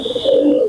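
Racing pigeons give a soft, steady coo that swells in the middle and fades at the end, close and fairly loud, with no talking.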